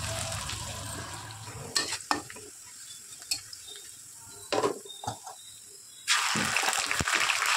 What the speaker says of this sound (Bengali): গোটা জিরে আর লবণ ফোড়ন হিসাবে দিলাম, দিয়ে আরও একবার ভালোভাবে নাড়িয়ে নিলাম